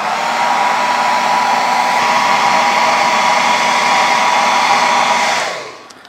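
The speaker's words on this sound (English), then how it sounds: "But the hairdryer will dry a coat of paint in seconds." Hair dryer blowing steadily as it dries a coat of paint on a cast resin sculpture, a loud continuous whoosh with a low hum that cuts off and fades near the end.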